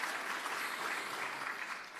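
Steady applause from the audience fills a hall at a pro-life national conference, moderately loud and even, with nothing else heard alongside it.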